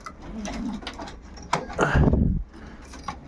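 Racing pigeons in a loft, with soft low cooing near the start and again around a louder mid-clip burst, mixed with faint rustling and knocks.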